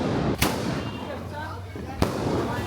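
Two sharp firecracker bursts crack out during Diwali celebrations, one early and one later, with a steady crowd hum and people chattering throughout.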